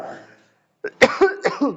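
A few sharp coughs close by, coming in quick succession after a short silence.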